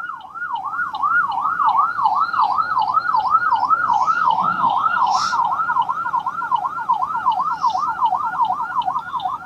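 An ambulance siren wails in a steady rising and falling cycle, loud and close as it passes through traffic, with faint road noise beneath.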